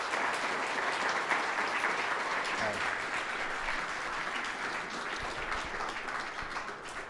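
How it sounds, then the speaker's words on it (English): An audience at a tech meetup applauds the panelists with steady, dense clapping that holds at a fairly even level for the full stretch, heard from within the room. "can I get a round of applause for our fantastic panelists here?"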